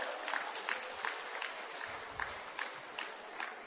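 Parents in an audience clapping at a school motivational speech, a steady broadband patter of many hands at moderate distance with no voices over it.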